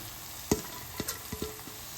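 Vegetables for chilli paneer fried rice stirred as they fry in a pan: a soft, quiet sizzle broken by a handful of short utensil scrapes against the pan, close up, with no voices.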